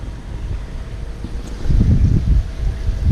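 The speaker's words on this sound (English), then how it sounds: "oh god, it's a bit windy" Wind buffets the microphone beside a covered koi pond, a loud low rumble in uneven gusts that strengthens partway through and holds, with no voices.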